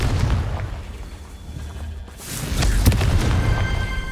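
A fire spell explodes in the video game Hogwarts Legacy, a deep booming burst that swells after a quieter stretch and holds a rumbling, crackling tail with a sharp peak near the end.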